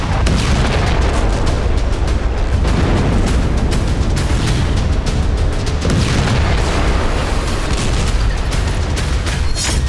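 Rocket strike hitting an Israeli tank in Gaza war footage: loud, continuous booming blasts and dense rumbling fill the whole stretch, with sharp bursts layered over a heavy low roar.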